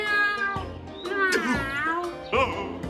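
A voice imitating a cat, giving drawn-out, wavering meows one after another, close and fairly loud, in a playful pretend game.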